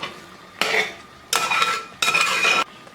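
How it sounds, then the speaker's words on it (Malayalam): A spoon stirs and roasts pineapple pachadi in a pan, making three distinct bursts of scraping and clattering against the metal, each about half a second long, separated by near quiet. "ഇതിങ്ങനെ ഇളക്കി ഇളക്കി വരട്ടിയെടുക്കണം"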